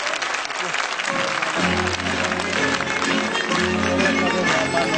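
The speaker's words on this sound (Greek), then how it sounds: "Χειροκρότημα παρακαλώ, να ενθαρρύνουμε τα παιδιά μας." Dense, continuous applause from an audience after a children's dance performance at a nursery and kindergarten event, with voices mixed into the clapping throughout.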